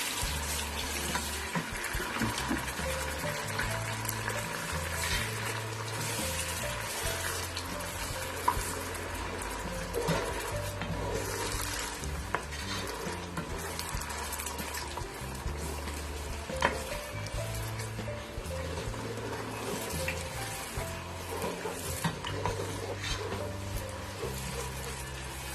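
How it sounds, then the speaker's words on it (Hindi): Spices for chana pulao, loosened with a splash of water, fry lightly in a pan with a continuous low sizzle and faint stirring scrapes throughout. "इसको मैं हल्का सा फ्राई करूँगी"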